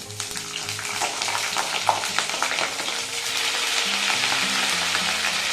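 Cauliflower florets frying in hot oil in a pan for a potato, cauliflower and bori curry with rohu fish, a continuous crackling sizzle with occasional stirring scrapes and clinks, close and fairly loud.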